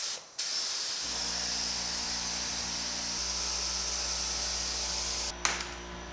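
Spray gun applying primer to the hood of a 1950 Chevy truck, a steady loud airy hiss running about four seconds between abrupt starts and stops, with a low compressor hum beneath.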